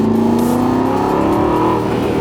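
An Aston Martin Vantage S V8 revs on a racetrack, a loud, close, continuous engine roar that climbs and then eases slightly, with no talk.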